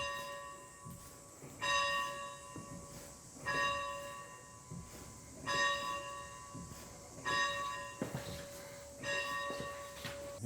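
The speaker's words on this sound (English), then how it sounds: "I will go inside and I will ring the bell to start school" A school bell rung to start the day clangs in slow, regular strokes roughly every two seconds, each ringing tone fading before the next, with faint rustling between.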